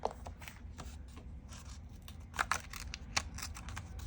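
Scissors cutting a scrapbook journal card, making a few quiet crisp snips and paper rustles spread unevenly over a few seconds, close and faint.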